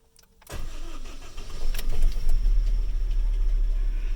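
A blue 2007 Honda Fit with a newly fitted starter cranks briefly and catches, then settles into a steady, close engine idle with no talking over it.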